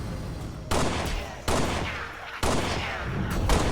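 Pistol fire in Halo: Spartan Assault comes as three loud, sharp bursts spaced roughly a second apart, each followed by a decaying tail over steady game background noise.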